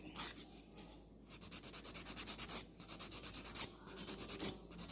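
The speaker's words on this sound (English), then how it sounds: "Filing the top as close to the cuticle as possible without hurting the person." A nail file rasps across the top of a sculptured nail in quick rhythmic strokes, close and fairly quiet, in three bursts with short pauses between them and no voices.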